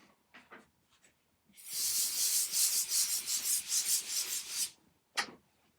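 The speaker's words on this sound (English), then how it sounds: "So what I'm going to do is rub this out." A marker drawing on a whiteboard is rubbed out with a long, steady scrubbing sweep of about three seconds, loud and close, framed by a few short squeaks and scrapes before and one sharp swipe after.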